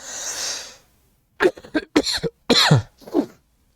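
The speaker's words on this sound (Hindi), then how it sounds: "है थोड़ी सी खांसी चल रही है" A single drawn-out cough from someone who is unwell, at close range, followed by several short, sharp coughing bursts in an uneven cluster, with nothing else around them.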